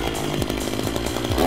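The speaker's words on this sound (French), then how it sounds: "Une tronçonneuse." A chainsaw runs loud and close, its engine snarling with uneven revving surges across a short burst.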